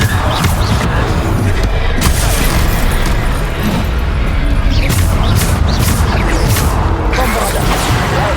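Spell combat in Hogwarts Legacy, with the Descendo slam spell among the casts: a steady barrage of heavy booms, bursts and crashing impacts runs throughout, loud and dense.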